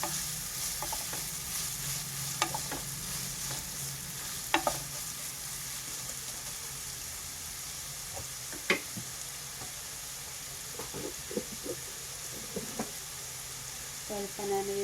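Finely chopped onion frying in a pan for dal tadka, a faint, steady sizzle broken by occasional spoon taps and stirring clinks.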